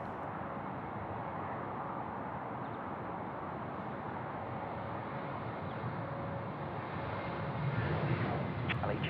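A jet airliner at Sydney Airport gives a steady, distant broadband engine roar that holds for the whole stretch and swells slightly near the end, with no talk.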